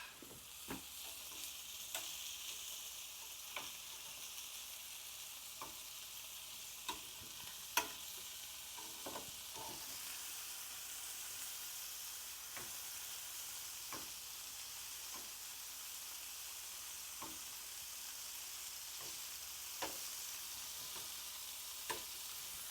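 Meatballs fry in a pan with a steady, soft sizzle that holds throughout. Occasional light ticks and clinks from stirring or turning break through at irregular intervals, with no voices.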